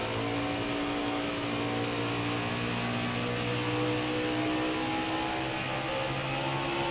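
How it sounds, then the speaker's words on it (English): Cup series race cars at Iowa revving, a dense, steady engine roar with layered harmonic tones holding loud and continuous throughout, no voices. "Just listen to the cars rev."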